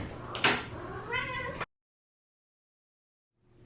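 Cat letting out a single drawn-out meow, loud and close, ending abruptly and followed by silence with a faint noise at the end.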